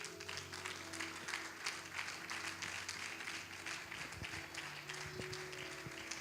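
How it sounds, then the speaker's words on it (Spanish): A church congregation claps steadily in a continuous patter of applause, moderately distant and fairly quiet, with a few faint background tones underneath. "Denle un aplauso al Señor."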